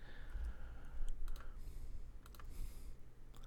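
A computer mouse clicks a few times while someone traces a wiring diagram on screen, producing faint, scattered sharp clicks over a quiet room hum.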